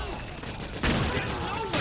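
Gunfire in Metal Gear Solid 4 comes as a loud, dense burst of rapid shots that cracks out at close range. Combat shouting sits mixed in with the shots.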